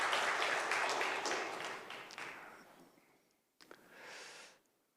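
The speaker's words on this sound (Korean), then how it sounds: "우리 두 분 함께 환영의 박수 하겠습니다" Church congregation giving welcoming applause to guests, a brisk burst of clapping that fades out, then a short second flurry before stopping.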